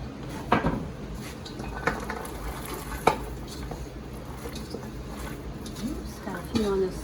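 Fresh beans tossed into a pot of boiling water on a stovetop, with scattered clattering knocks against the pot and stovetop, metallic clinks and rustling, and someone talking intermittently.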